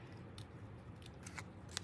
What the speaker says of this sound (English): take my scissors, kind of make that pointy leaf edge, and kind of round it a little bit.